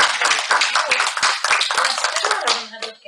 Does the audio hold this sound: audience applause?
yes